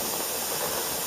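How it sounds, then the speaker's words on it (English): A continuous steady hiss of steam jetting out of a pressure canner nozzle while canning chicken stock, constant and fairly loud with no breaks. "There's actually a jet of steam coming out of that nozzle."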